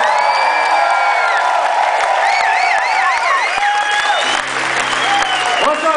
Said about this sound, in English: my good friend, Mr. Rod Cohn, give him a round of applause, everybody!